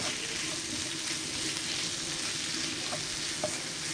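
Goan-style pork chilli fry sizzling in a pan, a soft steady frying hiss with a few faint clinks of stirring, fairly quiet and without talk.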